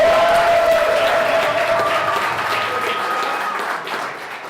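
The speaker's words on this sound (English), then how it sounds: "applause" Sustained applause from an audience at an end-of-semester celebration for a prison scholars program at a jail, steady dense clapping that carries on for several seconds and slowly thins toward the end.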